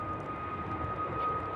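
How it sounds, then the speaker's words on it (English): A Jet2 Airbus A321 airliner bound for Tenerife roars steadily on its takeoff run, a loud, continuous engine rumble with a thin high whine running through it. "the second Jet2 A321 to Tenerife on the way out"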